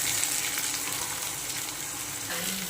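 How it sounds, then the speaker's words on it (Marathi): Finely chopped onion frying in a pan for spicy kanda tomato chutney, with mustard seeds and a little coriander, gives a steady, close sizzle throughout, with a brief stir near the end. "मग असा कांदा भाजून घेता"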